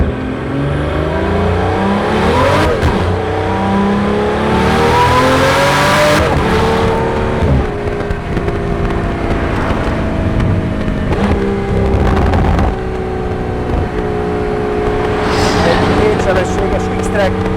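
A Pagani Utopia with a twin-turbocharged engine and X-Track sequential gearbox revs hard and accelerates, loud and close, its engine note climbing through several gear changes while someone talks over it.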